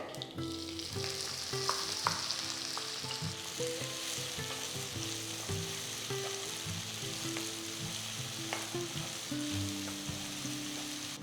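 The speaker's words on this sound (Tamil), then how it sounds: "இப்போ நான் இதில் ஒரு பெரிய வெங்காயம் பொடியை நறுக்கினது அதை சேர்க்குறேன்" Steady, close sizzling of chopped onion frying in hot oil, with occasional stirring clinks and no talking.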